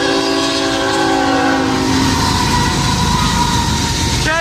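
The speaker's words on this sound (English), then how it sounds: "Here comes this train!" A Kansas City Southern and Union Pacific train passes loud and close, its horn blaring a sustained chord for about two seconds before fading into the heavy rumble and rattle of the rolling cars.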